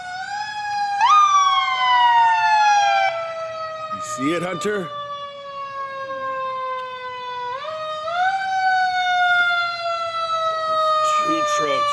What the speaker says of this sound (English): There's the big fire truck.